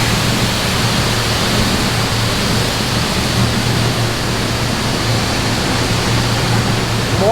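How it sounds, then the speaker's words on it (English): A pressure washer sprays water onto 18-by-10 summer wheels from an MK6 Golf R at a car wash, giving a loud, steady hiss that runs unbroken throughout. "Gonna spray them down really quick."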